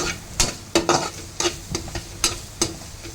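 Grated coconut with a pinch of turmeric fries in a pan under a soft sizzle, stirred with a spoon that scrapes sharply about every half second.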